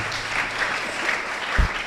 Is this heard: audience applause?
yes